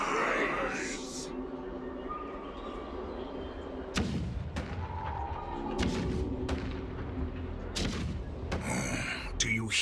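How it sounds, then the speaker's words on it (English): Cannons booming in Honkai: Star Rail, a series of heavy thuds and blasts that start after a quieter opening and keep striking irregularly at close range, with a voice speaking in between. "The rumble of the cannons."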